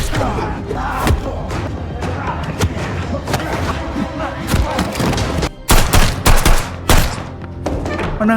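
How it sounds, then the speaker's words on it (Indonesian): Gunfire from an action film: a dense stretch of loud, layered shots and thuds over a tense score, with a brief dip before a tight burst of sharp, heavy reports near the end. "Mendengar suara tembakan, Honda CS segera kembali."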